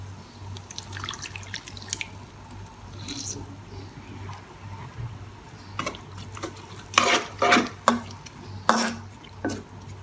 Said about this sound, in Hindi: तो अब मेरे पास जो ये सूप था मैं उसको ऐड करने लगी हूँ, हाफ कप जितना पहले।